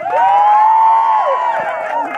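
Fans at a Thai celebrity meet-and-greet cheer loudly and close by, with high-pitched shrieks and whoops blending into a sustained roar that eases slightly toward the end.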